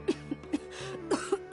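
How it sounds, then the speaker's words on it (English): A game character coughs in a short series of about six dry, close coughs in quick irregular rhythm, over a steady low musical background. "Don't cough on me."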